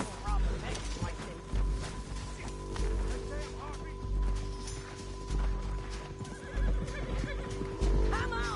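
Horse whinnying in the Red Dead Redemption 2 video game, with hoof clip-clops and a steady game soundscape running beneath, while people talk throughout.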